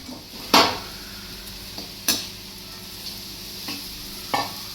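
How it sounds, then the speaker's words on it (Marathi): Pieces of jaggery stirred into ghee in a pan over low heat for sesame laddoos: a soft steady sizzle under sharp, spaced spatula clinks and scrapes against the metal pan, close up with no voices. "मगाशी कापून घेतलेला गूळ आता यामध्ये आपण टाकून घेऊयात।"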